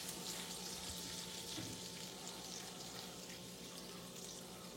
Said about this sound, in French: on veut que notre beurre fonde, mais on ne veut pas qu'il brunisse d'aucune espèce de façon